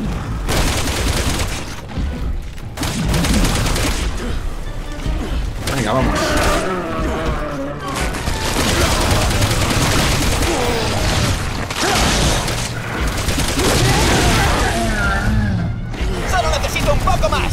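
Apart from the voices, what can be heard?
gunfire in a video game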